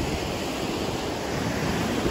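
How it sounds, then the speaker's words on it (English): Water flowing through tide pool plants on the Orange County coast, a broad, constant rushing wash like surf, with some wind buffeting, loud and steady with no voices. "You got the water flowing through here, through the plants."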